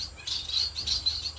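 Captive owl finches in a breeding setup chirp in quick, high, close twittering bursts over a low steady hum, several calls overlapping in a short busy stretch.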